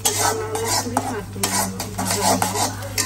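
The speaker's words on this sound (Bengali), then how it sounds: "আমি এটা ফ্রাই করি" Food sizzles steadily in a pan, with intermittent scrapes and clinks of a utensil stirring against the metal, loud and close throughout.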